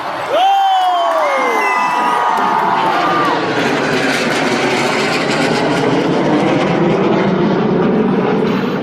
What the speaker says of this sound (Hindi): Flying in the single Jaguar fighter jet